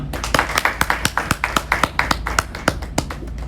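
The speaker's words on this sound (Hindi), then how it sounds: "एक बार यश जैन के लिए जोरदार तालियां।" Sparse applause from an audience after a poetry recitation at an IIT Jammu event, a steady stream of separate, fairly close hand claps with no voices over it.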